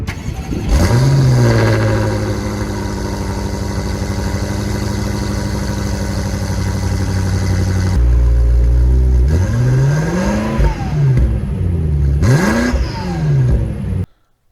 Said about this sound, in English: one of the best things about this car. Its exhaust note.